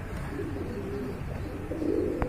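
Domestic pigeons with full markings and pink beaks, kept for sale, coo softly nearby, low throaty calls rising and falling over a steady background murmur.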